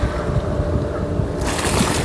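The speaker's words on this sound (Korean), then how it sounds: "파도 부딪히는 소리." Gentle sea wavelets lap against stepped concrete at a waterfront on a calm, lake-like day, with a soft continuous wash and wind noise swelling toward the end.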